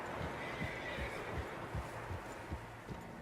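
Horses in the video game Red Dead Redemption 2, heard as a run of soft, regular hoof clip-clops at a steady walking rhythm over a low outdoor ambience, fairly close and moderately quiet.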